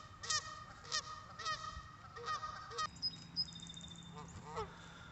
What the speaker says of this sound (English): Now we're going to go piss off the geese.